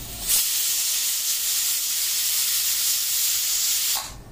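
Steam from a grandmother's pressure cooker hisses loudly and steadily for about four seconds, a continuous broadband rush that begins abruptly and cuts off near the end, with no talking.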